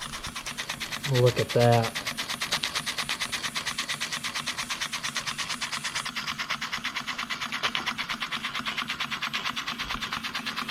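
StirlingKit model steam engine running at a steady fast chuffing pulse, a fine even mechanical patter throughout, close; someone speaks briefly over it near the start.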